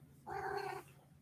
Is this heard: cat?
yes